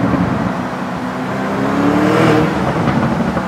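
A Lamborghini Urus with an Akrapovic exhaust accelerates in a tunnel. Its loud, close engine roar swells steadily with no speech over it.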